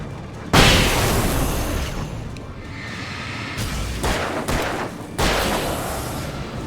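Flashbang grenades go off in a video game, several sharp booming bursts ringing out over a constant noisy background, with no talk.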